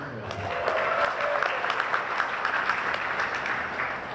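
A crowd breaks into sustained applause, clapping filling the room steadily for several seconds.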